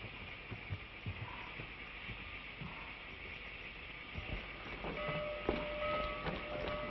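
A train rumbles steadily at a distance, with faint clanks and a rising rattle of wheels toward the end; no one speaks.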